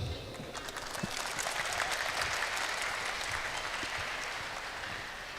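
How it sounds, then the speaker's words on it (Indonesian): An audience at a national apprenticeship selection ceremony claps together in steady, sustained applause that swells and holds for several seconds before easing slightly. "Ayo kasih aplaus"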